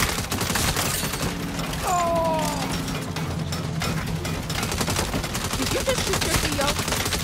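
Rapid bursts of gunfire in the Saints Row video game, dense crackling shots layered with game effects and brief voices talking over the action.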